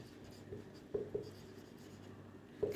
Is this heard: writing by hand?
yes